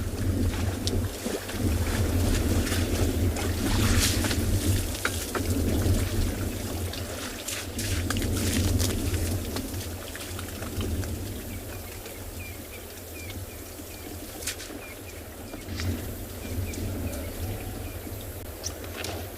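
Wet, sloppy splashing and sloshing of mud as elephants wallow on a sunrise safari, in irregular bursts, heard outdoors under steady wind noise buffeting the microphone.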